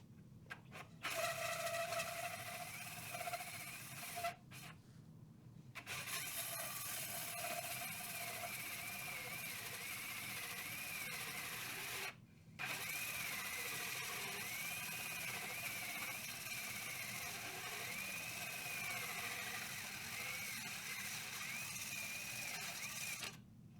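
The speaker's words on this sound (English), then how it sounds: "And I'm just using a 6-inch hole saw to cut the hole." A 6-inch hole saw grinds steadily through wood for a long stretch, a continuous gritty whir with a few brief stops and restarts, fairly faint and with no talking.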